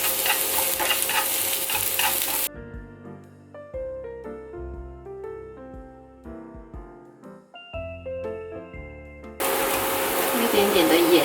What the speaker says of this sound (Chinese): 锅热了就可以加1汤匙的油，加我们的洋葱